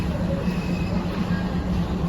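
A tourist train runs into Bang Sue station in Bangkok with a steady, loud rumble of wheels and carriages throughout, and no clear individual clanks.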